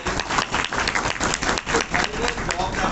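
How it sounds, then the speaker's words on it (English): Audience applause for the organizing team at a live tech innovation contest final, a dense steady wash of clapping with pulsing swells across the whole stretch. "I would like you to give a thunderous applause to the organizing team straight away."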